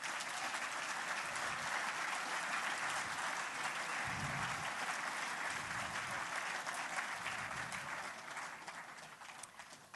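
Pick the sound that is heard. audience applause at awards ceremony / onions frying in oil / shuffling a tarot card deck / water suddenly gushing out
audience applause at awards ceremony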